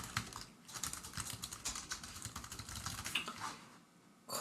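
Rapid bursts of keystrokes on a computer keyboard, quiet and close, clicking in irregular runs with a brief pause near the end.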